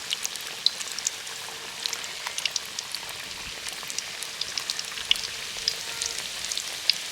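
Cauliflower chops deep-fry in a pan of oil, giving a faint, even fizzing crackle with tiny popping ticks spread through it, steady and unbroken like light rain.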